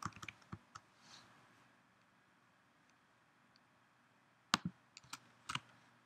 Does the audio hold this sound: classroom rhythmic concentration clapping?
no